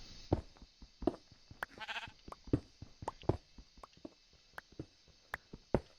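Sheep in the Minecraft video game bleat once, short and clear, amid a steady run of sharp footstep-like knocks and clicks, fairly quiet overall.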